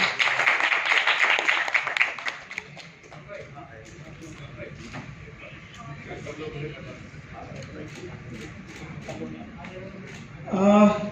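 At a radio program announcement event, a burst of clapping from a crowd opens, fading into scattered claps and background chatter, with a loud voice rising near the end.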